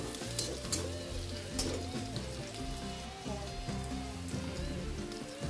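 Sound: onions and garlic frying in a pan

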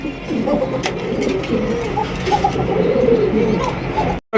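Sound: pigeons cooing

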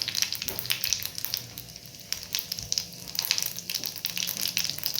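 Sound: mustard seeds and cumin sizzling in hot oil

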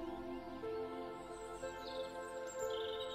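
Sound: birds singing

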